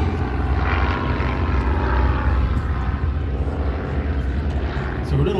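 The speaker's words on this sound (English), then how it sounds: "just taking off now the Bristol Fighter" Bristol F2B Fighter biplane takes off at the Classic Fighters airshow in Omaka, its propeller engine droning loud and steady close by, with a commentator talking over it.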